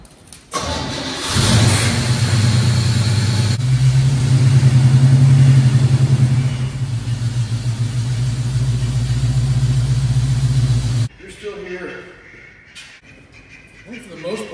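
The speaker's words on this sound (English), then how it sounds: "All right, let's get the Firebird moved." A Pontiac Firebird's engine cranks and fires up, then idles with a loud, steady mid-range rumble and some revving for several seconds before cutting off abruptly, followed by quieter voices talking nearby.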